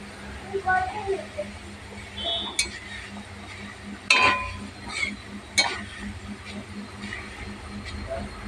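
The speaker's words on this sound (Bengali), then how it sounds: "যে মচমচ করে আওয়াজ হচ্ছে আলু ভাজা কিন্তু হয়ে গেছে" Crispy shredded potatoes are stirred in a frying pan with a utensil, making a few scattered clinks and a faint crackle while a voice talks nearby.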